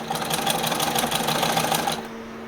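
Sewing machine running in a home, a steady, moderately loud mechanical whir with fast rhythmic needle ticking that stops after about two seconds, leaving a low background hum.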